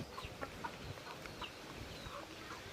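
A few short, soft clucks from farmyard chickens pop up over a constant low outdoor hum, spaced irregularly and heard at moderate distance.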